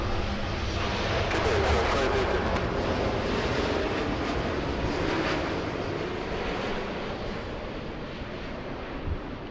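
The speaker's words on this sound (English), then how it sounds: "Very nice looking Dreamliner." Boeing 787-9 Dreamliner airliner at LAX producing a broad, steady jet roar with some wind buffeting on the microphone; loud and continuous, slowly easing toward the end.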